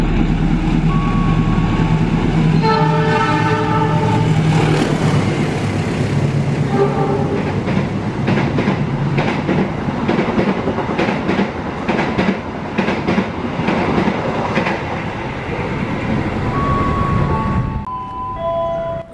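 Tegal Bahari locomotive-hauled passenger train passing close by, loud and steady, with horn tones near the start and rolling wheel-and-carriage clatter sustained throughout, cutting off sharply near the end.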